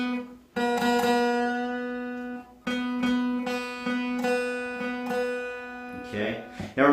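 Acoustic guitar strings plucked during tuning, a string being brought up to pitch: a few sustained, ringing plucked notes, close and moderately quiet, each decaying before the next pluck, with no talk.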